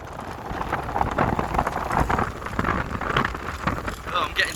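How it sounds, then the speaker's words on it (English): Rain falling during a dirt bike ride, a steady wash of raindrops and wind buffeting the microphone, fairly loud and close, with people talking over it. "we need to go home, it's raining"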